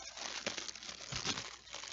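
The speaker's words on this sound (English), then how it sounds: "in a little plastic bag here that I'll open up" A little plastic bag holding a camera light is opened with faint, soft crinkles and rustles, close and quiet, over about two seconds.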